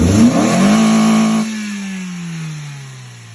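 A Toyota pickup truck engine, after an air-flow fault repair, revs up loudly and briefly, then the revs drop and drone down toward idle over a few seconds.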